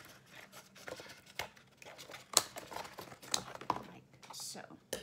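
Scissors snip through a cardboard egg box for a crocodile craft, giving a few sharp, crisp cuts scattered among softer handling rustles while a voice talks over them.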